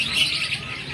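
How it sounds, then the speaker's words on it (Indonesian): Small birds sing and chirp steadily in a high, bright twittering that runs through the whole second, close and fairly clear over a faint low background hum. "Mantep pak burungnya pak."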